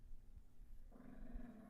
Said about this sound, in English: I want her to see my dog acting like a fool growling at me on the TV.